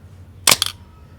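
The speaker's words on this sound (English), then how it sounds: "when I fire the shutter" A Canon F1 film camera fires its shutter once, a sharp, close mechanical clack followed quickly by a second smaller snap, against a quiet room.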